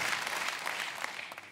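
Applause for Markus, winner of the first round of a bike-saddle competition against Mehmet, a steady wash of clapping from a small crowd lasting the whole short stretch at moderate level, without talk.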